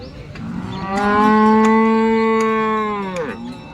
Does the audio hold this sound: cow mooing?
yes